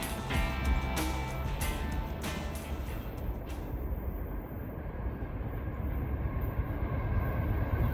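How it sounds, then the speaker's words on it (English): A five-locomotive freight train rolling eastbound onto a bouncy railroad bridge, with distributed power shoving at the rear: a steady, loud rumble of wheels and cars that holds throughout, with some brief rattling clanks early on. "Got a train coming in."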